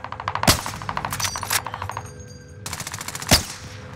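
Rapid automatic gunfire in Warzone on Rebirth Island, several short bursts of sharp repeated shots, with two louder single cracks standing out, close and loud, no talking.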